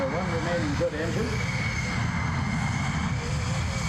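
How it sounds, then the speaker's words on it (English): An F-14 jet at the 1992 Cleveland National Airshow flies on its one remaining engine after a flameout, a loud, steady jet roar sustained throughout, with a voice speaking briefly over it at the start. "Now travel forward with their one remaining good engine."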